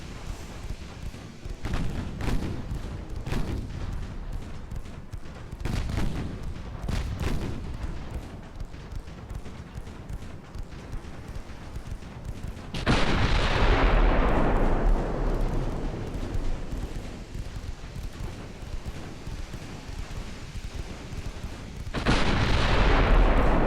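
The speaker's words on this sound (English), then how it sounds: "Just pepper her with the 6-inch guns." Battleship 6-inch guns fire in the naval game Ultimate Admiral Dreadnoughts during a WW2 Richelieu versus King George V battle, with heavy booming salvos that roll and decay over several seconds, repeated amid distant gunfire rumble.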